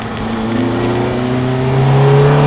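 A Ferrari F430 F1 engine accelerates hard on a race track, a loud, close, steadily rising engine drone that climbs in pitch over a couple of seconds.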